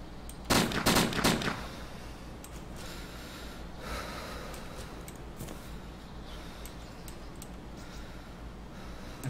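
Bursts of rapid gunfire in the DayZ survival game, a loud cluster of shots near the start followed by scattered fainter reports over steady background noise.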